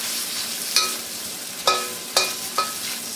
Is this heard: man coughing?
no